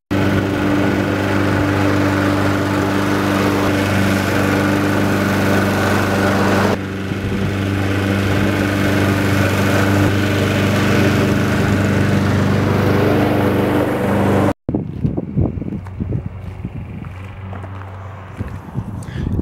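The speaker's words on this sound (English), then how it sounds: "Can't wait to get that stuff nice and mowed" A Honda HRX217K5VKA walk-behind lawn mower runs steadily while cutting grass, a loud continuous engine drone that cuts out abruptly near the end, leaving softer scuffing and footstep-like sounds.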